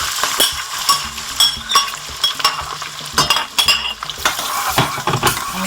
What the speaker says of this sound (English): Now that the butter has melted, I am reducing the heat to medium and I'm going to add my onions.